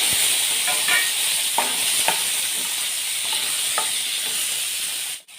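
Chopped onions and tomatoes sauté in a hot pan, a steady loud sizzle and hiss running throughout with occasional soft scrapes from stirring, close up, no voices, cutting off abruptly near the end.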